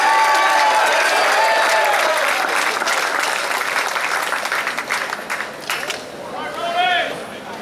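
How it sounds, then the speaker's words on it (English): Applause fills a varsity awards ceremony as the swim team is honored, loud sustained clapping from the crowd that gradually fades, with a voice speaking over it near the end. "One more round of applause for our swim team."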